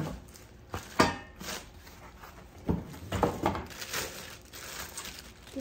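Fissler Original-Profi stainless steel pots are handled up close, giving a few distinct metallic clanks and knocks with softer scraping and rustling in between, at a quiet ASMR level.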